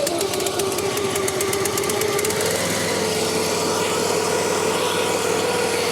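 A Revolution reel mower with a GX engine runs with the reel disengaged, a loud, rapid, knocking mechanical chatter that settles into a steady idle close by.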